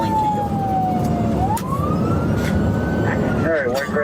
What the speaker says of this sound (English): Sirens and lights are active, failing to yield.